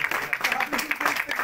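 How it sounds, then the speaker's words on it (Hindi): Applause from a crowd welcoming guests at a Gujjar community gathering, a steady wash of clapping heard briefly and at moderate level, mixed with crowd noise. "वो तालियों से स्वागत करें उनके।"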